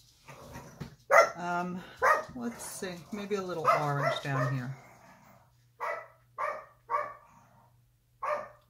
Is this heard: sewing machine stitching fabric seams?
no